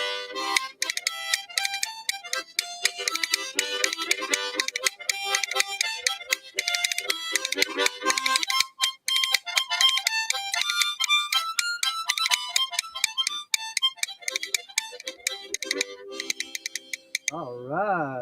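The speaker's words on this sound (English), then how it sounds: "They are just rib bones from a cow." Cow rib bones played as a folk percussion instrument, a rapid, continuous run of sharp clacks and rattles in quick rhythm, close and bright, lasting around eighteen seconds before ending.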